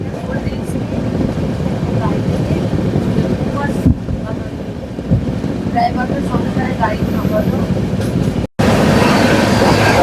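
Loud, continuous rumble and rattle of the Darjeeling Mail running on the rails, heard from inside the train, with faint voices in the background and a brief dropout near the end.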